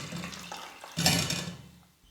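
Water pours and drains off soaked potatoes through a strainer ladle in a kitchen, a short splashy rush that swells and then fades, close and alone.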